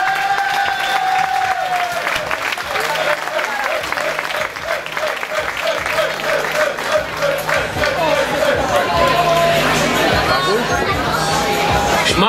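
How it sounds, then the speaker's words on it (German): Crowd clapping steadily at a village Kerwe fair in Germany, a dense continuous patter of many hands with murmured chatter and occasional voices mixed in, loud and close throughout. "Ihr dürft ruhig mal klatschen,"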